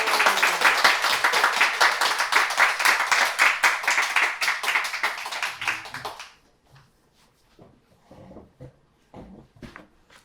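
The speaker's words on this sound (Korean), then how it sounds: "그럼 박수로 먼저 우리 준영 형제님을 맞이하겠습니다" Audience applause welcoming an author speaker to a Korean church-centre talk, a dense, loud burst of clapping for about six seconds that thins out to a few scattered, fainter claps afterward.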